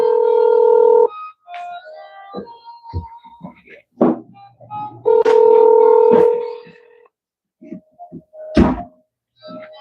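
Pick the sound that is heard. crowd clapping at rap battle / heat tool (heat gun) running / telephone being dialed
telephone being dialed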